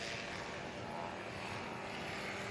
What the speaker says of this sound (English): Clint Busnitz applying the pressure on the throttle.